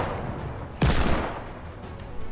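Gunfire in a video game: one sharp, loud blast bursts out partway through and rolls off over about half a second, standing out against steady game ambience.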